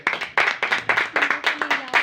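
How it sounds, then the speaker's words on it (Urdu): A crowd at a Christian worship gathering claps in strong, rhythmic bursts, repeated regular beats of hands clapping together, fairly close and lively. "ایک بار زوردار تالیاں."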